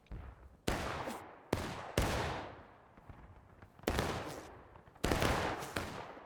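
Musket volleys crack out in the video game War of Rights, several loud, close blasts each followed by a long rolling echo that fades before the next, with some faint distant shots between them.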